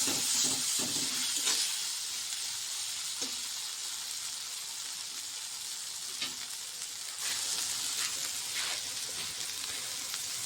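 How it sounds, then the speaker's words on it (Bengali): Spices frying in a pan with a little water and oil for a Bengali pabda fish curry made with mustard paste, giving a steady soft sizzle and bubbling hiss with occasional stirring scrapes, fairly quiet and close. "মশলাগুলোকে সুন্দর করে ফ্রাই করে নিই"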